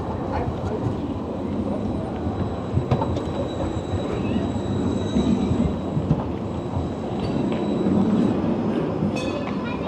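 The number 8 tram in Basel rolling in with a continuous rumble of wheels on rails, faint squeals and metallic clinks over steady street noise, fairly loud and close.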